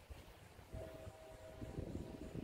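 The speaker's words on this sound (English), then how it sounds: "you can hear the trains" A low, steady rumble of a distant train carries across open air, with a faint sustained whine and wind noise throughout.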